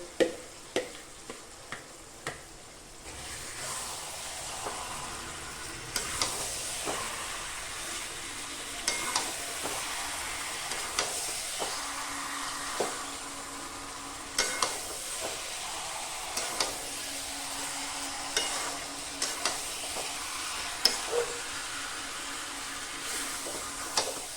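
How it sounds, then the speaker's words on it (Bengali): Mutton fries with spices in a pan for a curry, a soft continuous sizzle broken by repeated scraping and knocking of a stirring spoon at an uneven pace. "মাংসটাকে কষতে থাকবো মশলার সাথে"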